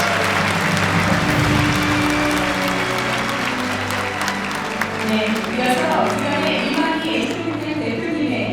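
Sustained applause from a large audience at a peace commemoration ceremony honoring Mr. Manhee Lee, steady and full with a murmur of crowd voices mixed in.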